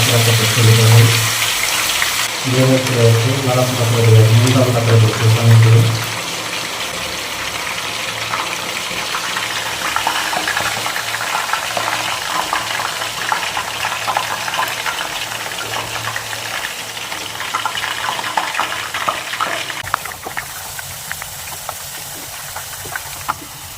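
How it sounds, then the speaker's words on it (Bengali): Potato slices for homemade chips fry in hot oil with a steady, loud hiss and bubbling that starts full, then settles into a quieter, continuous crackling sizzle up close. "তেলটা এখন ঠিকঠাকভাবে গরম হয়ে গেছে এখন আমি এর মধ্যে আলু দিয়ে দিব"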